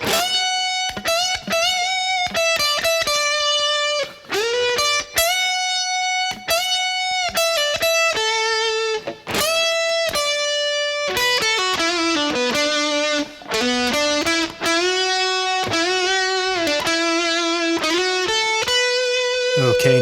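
Overdriven electric guitar runs through the opening two lines of a solo, sustained bent notes giving way to quicker phrases, loud and continuous.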